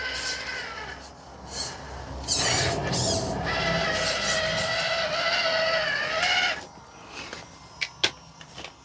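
A Radiolink RC8X FPV RC car drives, its high-pitched electric motor whining steadily at close range for several seconds before cutting out, followed by a few sharp clicks and knocks.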